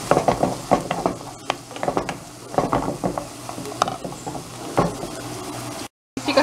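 Tomato frying in a pan with onion and garlic, a steady close sizzle with repeated stirring scrapes and clinks throughout, no talk, ending in a brief dropout.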